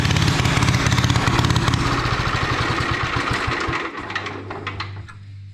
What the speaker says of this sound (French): là le moteur il démarre, mais on va dire il est plutôt bruyant quoi